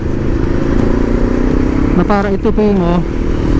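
A motorcycle engine idles smoothly and steadily throughout, with someone talking over it; his voice rises briefly near the end while the engine hum continues underneath.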